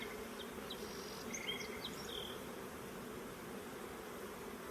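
Honey bees crowd a hive box packed with young bees, filling it with a soft, continuous hum close at hand, with a few faint higher buzzes of individual bees flying near and no talk.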